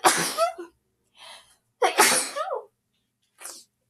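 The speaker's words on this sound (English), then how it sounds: "I had to sneeze." A person sneezes sharply several times, with short gasps and breaths between the bursts, close and fairly loud.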